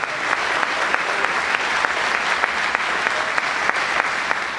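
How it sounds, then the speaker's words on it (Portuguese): A church congregation applauds steadily, a dense continuous wash of many hands clapping together throughout, loud and close with no voices standing out. "eu quero que você dê uma bela de uma salva de palmas para Ele"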